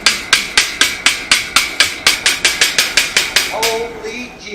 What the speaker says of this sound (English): Let's chip the slag and see what a good weld we did